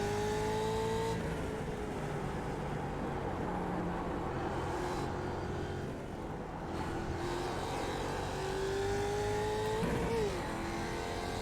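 A race car engine in the iRacing sim roars continuously and loud, with rising whines of shifts through the gears, a brief downshift and lift near the end, and no talking.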